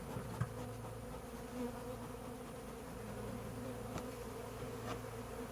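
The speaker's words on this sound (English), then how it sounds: "It's just loaded with bees. They're just robbing everything." A dense, steady buzz of many honey bees robbing a hive close by, with a few louder individual bees passing near the microphone.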